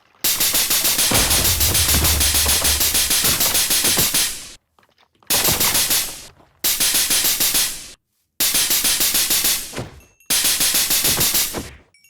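Nail gun firing in the Minecraft Scorched Guns 2 mod with an extended magazine, loud rapid automatic bursts in five long strings separated by short silences, very close and with no talk.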